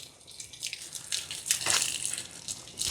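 Water splashes and gushes from an opened RV water heater drain, a steady close-up pour with drips and sputters that swells partway through and keeps running to the end.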